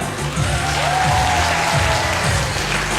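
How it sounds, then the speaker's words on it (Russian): An audience at the Autumn Vernissage 2012 dance event applauds the jury members with dense, sustained clapping that stays loud and even throughout, with a faint crowd murmur beneath. "Ваши аплодисменты"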